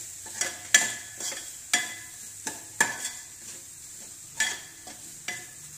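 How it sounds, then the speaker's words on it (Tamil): Egg gravy masala seasoned with pepper powder is stir-fried in a pan: a spoon scrapes and taps the pan in an irregular rhythm over a low, constant sizzle, close and clear. "அதனுடைய பச்சை வாசனை போகிற வரைக்கும் நல்லா வதக்கணும்"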